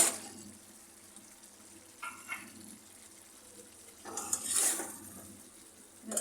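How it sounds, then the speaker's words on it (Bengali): Papaya pieces being stirred and sautéed with chicken in a pan for a thin papaya chicken curry, giving faint sizzling with a few soft scrapes and stirring clatters. "পেঁপেগুলো গোশগুলোর সাথে ভালো মতো কষিয়ে নেব।"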